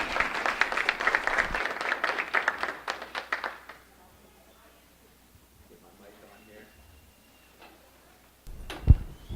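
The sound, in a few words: audience applause for the speaker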